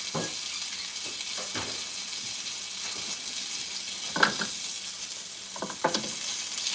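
A steak sizzles steadily in a pan as a constant close frying hiss, broken by a few soft scrapes and clinks of a spoon, with no talking.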